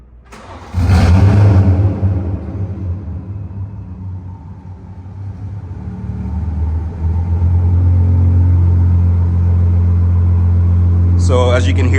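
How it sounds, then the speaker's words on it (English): A tuned BMW 540i M-Sport with stock turbo starts with a loud roar, then settles into a deep, steady idle rumble that swells slightly toward the end, with a brief higher-pitched sound near the close. "So as you can hear, the car is pretty loud on startup."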